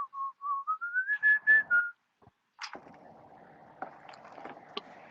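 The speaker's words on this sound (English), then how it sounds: "Ryan, you better start whistling." A person whistles a rising series of short notes to call pigeons, then a long warbling call, followed by faint splashing and knocking sounds nearby.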